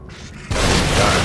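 A single heavy gunshot or boom from The Evil Within rings out after a quieter lead-in, loud and sustained like a blast with a long rumbling tail.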